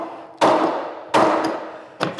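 Hammer blows on a workpiece held by a clamp on a wooden workbench: three sharp, loud strikes, each ringing out and fading, evenly spaced with no talk.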